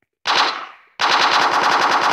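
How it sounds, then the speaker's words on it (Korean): Automatic gunfire from a scripted video game weapon rattles out in two rapid bursts, the first trailing off with a fading echo before a second, sustained stream of shots continues loud and close to the end. "연속 발사."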